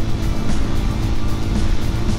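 CFMoto Papio Racer motorcycle engine running while riding, a steady, loud, gruff drone with dense low rumble that holds throughout without pauses.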